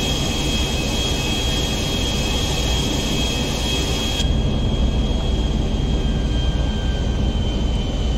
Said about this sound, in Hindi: हम अपने इंजन्स बंद नहीं कर रहे हैं दोस्तों